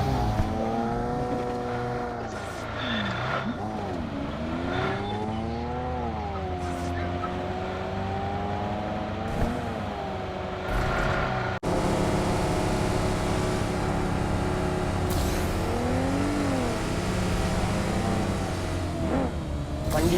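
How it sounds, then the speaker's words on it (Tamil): In the BGMI battle royale game, a vehicle engine drones steadily and loudly as it approaches, its pitch rising and falling as it revs, with occasional voices over the continuous motor. "வண்டி இப்பதான் வருதுன்னு நினைக்கிறேன்."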